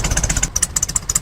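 VW Beetle air-cooled engine idling lumpily after a cold winter start in the snow, a loud, close, uneven chugging pulse with rapid irregular firing beats.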